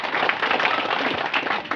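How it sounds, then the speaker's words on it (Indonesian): A short burst of dense clapping from a group at a village thanksgiving ceremony, continuous and fairly loud. "Mari kita kasih tepuk tangan."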